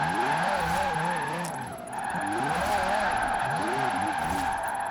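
A car in Forza Horizon 4 slides and skids, tires squealing in wavering, looping pitches over a steady engine drone, loud and close, easing briefly midway before the screech returns.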